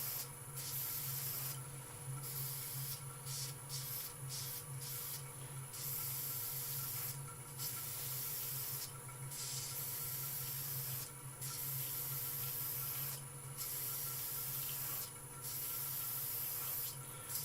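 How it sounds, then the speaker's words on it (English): An airbrush sprays paint onto a wooden piece turning slowly on a lathe, a soft steady hiss broken by repeated short bursts over a constant low motor hum. "So now if I turn the lathe on slowly, I'm just going to give this a little airbrush out."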